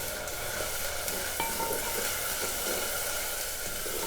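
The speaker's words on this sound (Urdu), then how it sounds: "اب اس کے بیچ میں ادرک لہسن کا پیسٹ ایڈ کرتی ہوں، اور اسے تھوڑا فرائی کر لیں گے" Ginger garlic paste frying among browned onions in a pan for dhaba-style chana daal, a steady, moderately loud sizzle with light stirring scrapes and a brief clink, no talking.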